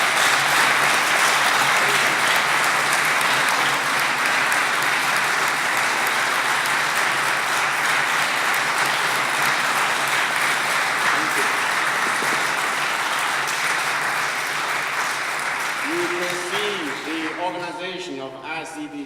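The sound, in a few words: audience applause at a conference closing ceremony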